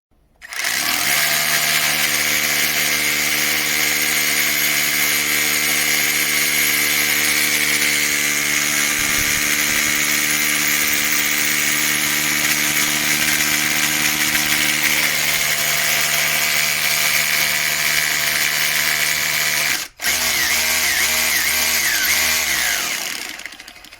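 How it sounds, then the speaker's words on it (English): An Einhell TE-HD 18 Li cordless rotary hammer drills into concrete with embedded stones, producing a loud, continuous, close motor whine and hammering drone that stops briefly near the end before restarting. "Drilled 4 holes directly into concrete with stones, absolutely no issue."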